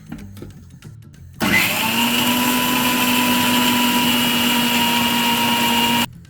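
A mixer grinder starts abruptly and grinds a coconut mixture with a loud, steady motor whine and hum for several seconds, then cuts off sharply, close by and with no speech.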